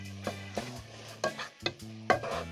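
Curd and spinach stirred as they fry lightly in a pan: soft, repeated scraping strokes with a quiet sizzle underneath, close and faint, with occasional utensil clinks against the pan.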